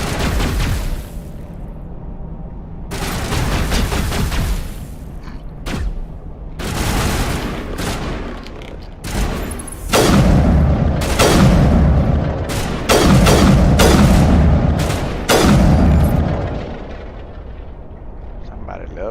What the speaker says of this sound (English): Dude, chill with the rockets